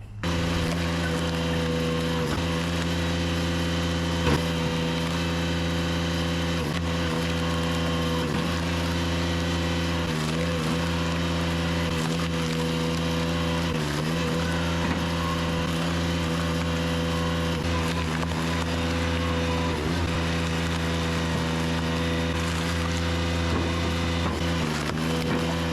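Two 59cc chainsaws cutting live oak for firewood, a steady loud two-stroke whine held at full throttle for the whole stretch, pitch briefly dropping and recovering as the chains bite into the wood, with no talking.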